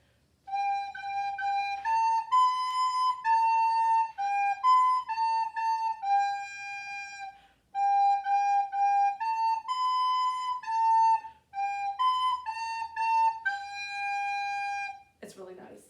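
Clair de la Lune played on a recorder, a clear simple melody of steady sustained notes in short phrases with brief pauses, close and alone with no voices.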